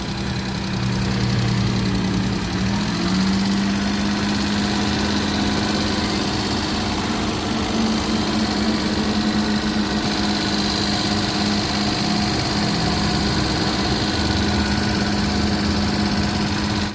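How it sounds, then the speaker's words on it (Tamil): A steady car engine idles continuously with a low, even hum and faint rattling vibration, no voices over it. "இப்போ நான் இன்ஜின் ஸ்டார்ட் பண்ணி காமிக்கிறேன்"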